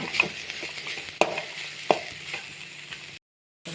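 Food fries in a kadai with a steady sizzle and a few sharp stirring clacks, close and moderately loud, ending in a brief silence.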